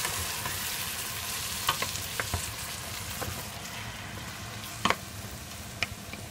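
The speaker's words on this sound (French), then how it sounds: "j'ajoute les tomates fraîches. Je mélange." Fresh tomatoes sizzle and fry in a pan, a steady hiss broken by a few sharp scrapes and taps of a spoon as they are stirred.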